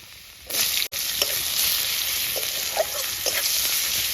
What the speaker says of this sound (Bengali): রসুন থেতো করে রেখেছিলাম সেটাকে দিয়ে দেবো, আর একটু হালকা নাড়িয়ে